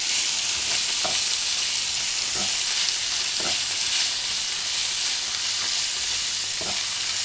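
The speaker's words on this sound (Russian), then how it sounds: "Так, поджариваем это на очень медленном огне." Potatoes and pork fry slowly in oil over very low heat in a home kitchen, giving a steady, close sizzle with a few soft stirring clicks and no talking.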